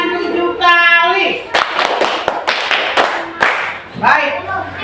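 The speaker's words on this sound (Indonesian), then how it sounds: "Tepuk tangan 7 kali." After a brief burst of children's voices, a classroom group claps hands seven times in a steady rhythm, the sharp claps loud and close with some chatter around them.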